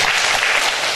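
A church congregation applauds with dense, loud, continuous clapping that fills the whole short moment.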